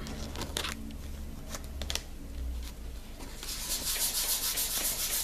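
Close, steady rubbing and scrubbing sounds as stamping nail polish is wiped off, continuous and fairly soft, with a brief clicking patch and a brighter scrubbing stretch toward the end.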